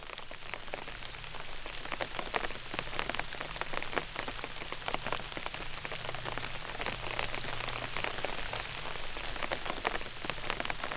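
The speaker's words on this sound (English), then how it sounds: "It's been raining for a few hours now. Nothing I would classify as heavy, but a good solid rain." Steady rain falls on a DOD Outdoors Ichi one-pole tipi tent at night, a dense, continuous patter of drops on the fabric with no voices, moderate and unbroken throughout.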